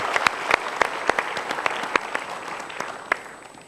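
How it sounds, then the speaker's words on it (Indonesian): Studio audience of the Mario Teguh Golden Ways talk show claps for volunteers coming forward. Distinct sharp individual claps ring out over a softer clapping bed that gradually fades. "Boleh kasih tepuk tangan untuk sahabat super kita?"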